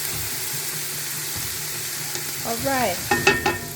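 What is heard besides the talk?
vegetables and ginger sautéing in soup pot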